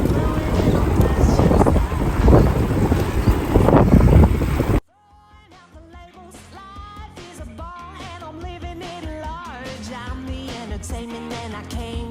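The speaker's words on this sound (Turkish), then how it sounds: "Rüzgar karşıdan esiyor." Heavy headwind buffets the microphone of cyclists riding with a loud, roaring rumble for several seconds, then cuts abruptly to music.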